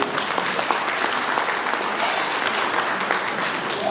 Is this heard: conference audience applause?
yes